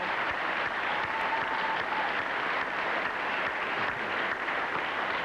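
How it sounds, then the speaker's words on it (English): A television talk-show studio audience claps steadily and continuously throughout, a dense even wash of applause with no voices standing out. "I'm glad they're applauding"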